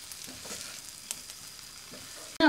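Chettinad chicken fry with chopped coriander leaves is mixed in a pan, giving a faint steady sizzle with a few soft stirring scrapes, close by, ending in a sudden loud clatter.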